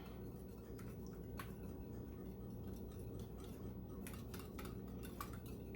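Faint, scattered clinks of a big spoon whisking egg into a macaroni and cheese sauce in a pot over a low, steady background hum.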